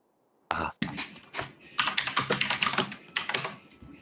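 Aggressive, fast typing on a computer keyboard, loud clustered bursts of sharp key clacks after a brief silence, continuing in dense uneven runs with short pauses, close and alone.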